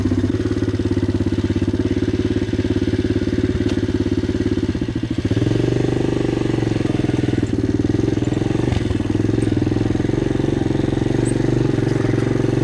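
A Loncin 110/125 motorcycle engine on a test run, loud and close, idling with a steady throbbing drone that dips briefly and then settles into a slightly higher, rougher idle.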